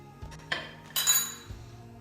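A spoon mixing mint mayo sauce with paprika and lemon juice in a bowl, giving a few sharp clinks and scrapes at irregular intervals, close and fairly quiet, with no talking.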